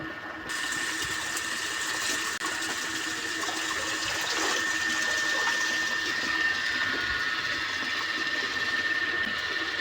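Water pours steadily into a tub or machine for washing clothes, a loud continuous rushing fill that starts abruptly and runs on without talk.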